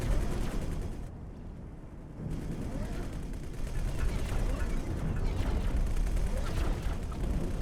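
Space combat in X4 Foundations, where an incoming missile attack brings a dense, rumbling barrage of blasts and rapid gunfire-like impacts, loud and continuous, with a brief dip in intensity early on.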